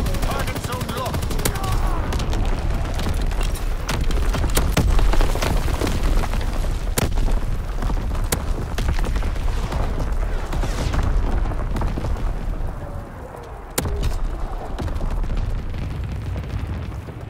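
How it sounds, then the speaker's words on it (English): Flak bursts and artillery explosions in Call of Duty: WW2: a continuous loud barrage of booms and cracks lasting the whole stretch, with sharp individual blasts standing out over a dense rumbling bed. "Flak bursts commenced."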